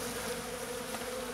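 Honeybees buzzing excitedly at a hive that appears ready to swarm in early April, a dense continuous drone of many insects close by with no talk.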